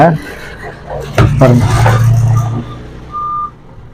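A Dell laptop with an SSD fault sounds its warning beeps: a low, buzzy tone in the middle, then a shorter, higher electronic beep near the end, heard close.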